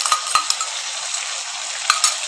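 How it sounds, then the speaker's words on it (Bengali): Vegetables stir-fry in a pan for a homemade Chinese dish, giving a steady close sizzle broken by a few sharp clinks of the stirring utensil against the pan. "এই তিনটাকে ভালো করে নাড়াচাড়া করে নিয়ে, মানে একটু ভাজা ভাজা হলে"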